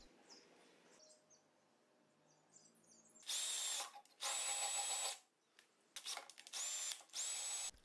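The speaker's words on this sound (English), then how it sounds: "Make sure you drill the mount as far as possible" Loud bursts of a power drill drilling a fairing mount on a 2008 Triumph Speed Triple motorcycle, in several stretches separated by brief pauses, after a quiet stretch with faint background sounds.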